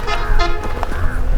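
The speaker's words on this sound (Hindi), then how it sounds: "इधर आके यही हॉर्न सुनने मिलते हैं।" A short car horn toot sounds close by on a highway amid road and traffic noise, brief honks over a rumbling background.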